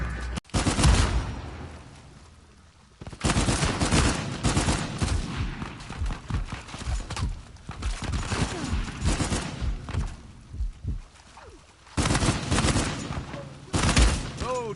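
Bursts of gunfire in the video game Uncharted 4, repeated volleys and dense shooting with thumps and impacts, mixed with in-game voices and talk across the whole stretch.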